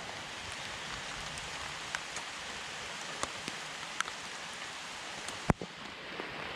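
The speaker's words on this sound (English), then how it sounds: "It's raining in October again." Steady rain patters softly on a surface, with scattered louder drips and one sharp tap near the end.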